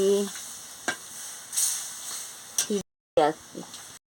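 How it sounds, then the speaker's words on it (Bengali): Bottle gourd stems and brinjal being stirred in a pan with some water just added for a curry: a few short scraping stirs over a faint hiss, with a voice speaking briefly over the stirring. "দিয়ে ভালো করে নাড়িয়ে নিচ্ছি।"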